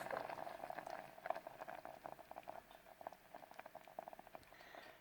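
Rosehip syrup gently simmering in a small pot, soft irregular bubbling and popping at a quiet, close level with no voices.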